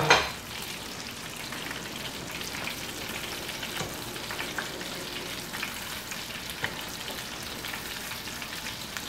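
Onion rings deep fry in oil in a small pot, a steady, close crackling sizzle that runs unbroken after a brief louder splash at the start.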